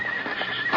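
A horse whinnies in a 1954 Western radio drama, The Six Shooter, a single short, bright neigh heard close and clear.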